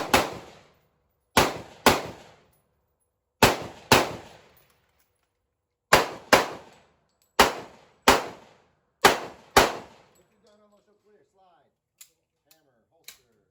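Ten sharp gunshots from an IWI X95 Tavor rifle, a bullpup rifle, fired in irregular pairs and singles, loud and close with short decays, followed by faint clicks and small noises.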